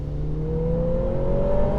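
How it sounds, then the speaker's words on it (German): A Lotus Emira sports car engine climbs in pitch as it revs, a smooth rising drone heard from inside, steady and fairly loud for a couple of seconds. "Ich fahre Lotus Emira."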